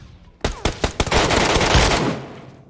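A flashbang grenade in a video game goes off after a few sharp clicks and thuds, bursting into a loud, sustained blast with a ringing wash that fades over about a second.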